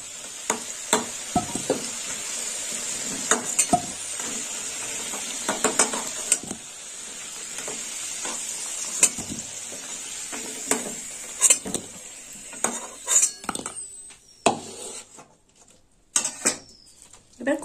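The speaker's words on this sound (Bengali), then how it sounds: "আলুটা একটু লাল লাল করে ভেজে নেবো।" Potato pieces fry and sizzle in hot oil in a pan while a spatula stirs them, scraping and clattering against the metal in repeated bursts over a steady hiss, without speech.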